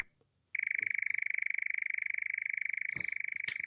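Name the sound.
nightjar churring with noise reduction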